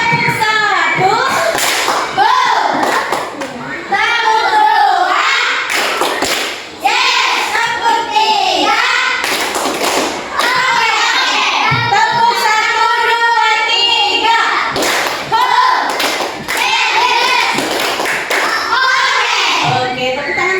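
Elementary school pupils in an Indonesian classroom clap along in rhythmic patterned bursts, sharp and near, while children chatter and an adult speaks over the clapping throughout.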